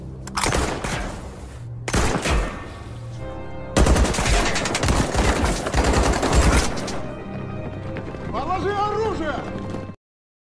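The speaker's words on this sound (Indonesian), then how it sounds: "Nikov pun segera menguji coba senjata itu dengan menembak sebuah gentong" A gun is test-fired at a barrel in a film scene, with loud, close bursts of rapid automatic gunfire and a narrating voice speaking over the shots.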